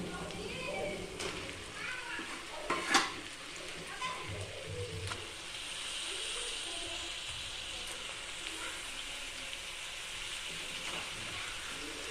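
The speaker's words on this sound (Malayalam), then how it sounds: "നമുക്കിനി ഇതിലേക്ക് ചിക്കൻ ഇട്ട് കൊടുക്കാം കേട്ടോ." Chicken pieces tipped into fried masala in a hot pan, sizzling and crackling steadily with a few stirring clatters, close up, under a low background.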